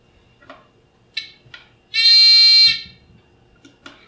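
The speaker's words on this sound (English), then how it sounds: "just press this button and it will start beeping so that you can find it" A single loud, sustained electronic beep from a homework-finder tracker device lasting under a second, shrill and buzzy, with faint clicks and handling sounds around it.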